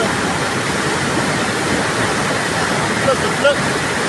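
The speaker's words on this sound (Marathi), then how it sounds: "पाणी वाढले बघा पाणी भरपूर वाढले" Steady, loud rush of fast-moving floodwater after heavy rain in Moshi-Chimbali, Pune, carrying water hyacinth, fills the whole stretch, a constant roaring wash with no pauses.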